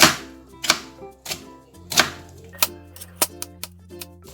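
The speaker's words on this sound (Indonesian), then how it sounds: "Setelah kentang nanti sudah diiris semua, kita juga iris tomatnya" Tomatoes are sliced finely with a knife on a cutting board, a close series of crisp chopping knocks arriving at an uneven pace and then quickening toward the end.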